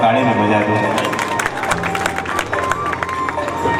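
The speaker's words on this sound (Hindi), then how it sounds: "कहने वास्ते जोरदार ताली में बजा दो" An audience applauding at a district convention of a community society in Nagaur, a dense, steady wash of clapping and crowd noise under a loud voice speaking over a microphone.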